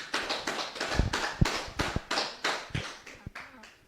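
An audience claps together in response to a lecture on the Bhagavad Gita, giving a few seconds of steady, dense applause with sharper individual claps standing out near the front.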